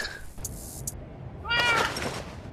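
A cat in the Minecraft video game lets out a clear meow with rising and falling pitch, preceded by brief game sound effects and quiet background.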